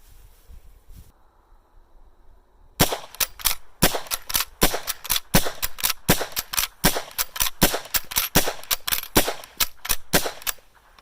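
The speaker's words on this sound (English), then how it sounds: "I'm going to fire 10 shots and just see what it's like to fire this great rifle." A rapid string of sharp, loud gunshots from an Uberti replica of the Winchester 1866 lever action sporting rifle firing .45 Colt rounds, close by after a quiet start, with short gaps between shots for cycling the lever.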